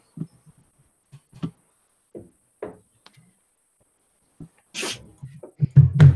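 A sharp, sudden sneeze bursts out near the end, loud and close, followed by a few low bumps; earlier only scattered soft knocks and breaths.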